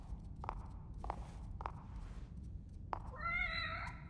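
A cat meows near a save point in the video game TEW The Consequence, a faint wavering cry near the end after a few soft footstep-like taps over low background rumble.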